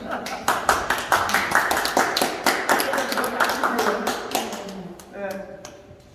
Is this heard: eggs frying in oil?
no